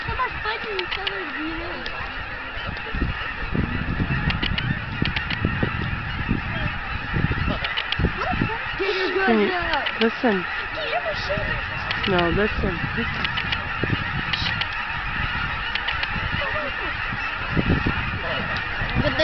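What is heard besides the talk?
geese honking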